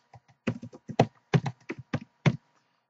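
Quick bursts of keystrokes on a computer keyboard while entering values in architectural modelling software, about a dozen close taps in an uneven rhythm with no talking.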